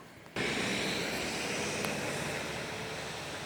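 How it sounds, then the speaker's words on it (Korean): A rural ditch swollen by heavy rain rushes like a mountain stream, a loud, steady broadband wash that starts abruptly and continues unbroken near the microphone. "계곡 같은 물소리"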